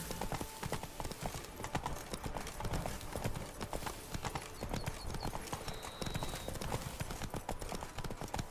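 Hooves of Roach, the horse in The Witcher video game, clip-clop in a steady galloping rhythm throughout, close and continuous over a faint ambient background.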